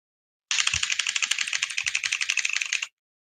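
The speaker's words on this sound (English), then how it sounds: "we all listen to Lincoln type on his new keyboard" Rapid, steady typing on a new computer keyboard runs for about two and a half seconds, a dense stream of crisp clicks heard alone and close up.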